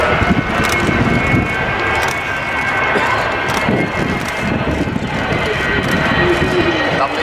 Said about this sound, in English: enjoy your aeroplane, the British people's aeroplane, as she comes in towards us from the far side of the airfield